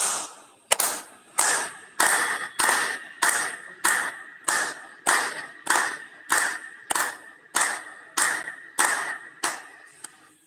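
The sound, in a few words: group clapping hands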